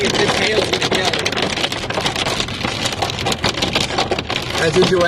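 Hail pelts a storm chase vehicle inside a February cold-core supercell, a dense, loud, continuous clatter of hard impacts drumming on the body without a break.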